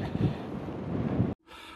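Strong wind buffets a microphone out in an open farm field, giving loud, uneven rumbling gusts that cut off abruptly near the end before a quieter hiss resumes.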